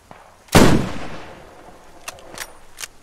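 A single loud sniper rifle shot in the military shooter Squad cracks out sharply and decays into a rolling echo, followed by a few faint distant pops.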